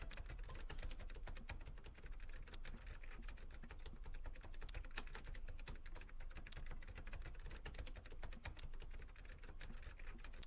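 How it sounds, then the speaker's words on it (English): Continuous fast keyboard typing sound effect from a visual novel video game, a steady dense patter of key clicks that fills the whole stretch evenly, close and fairly quiet. "That typing almost sounds like rain."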